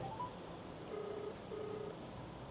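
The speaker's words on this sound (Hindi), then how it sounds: "देखिए फ़ोन कट गया, एक बार फिर से मिला लेते हैं।" A telephone being redialed after a dropped call makes a few faint, short dialing tones over a low background hiss, with no voices.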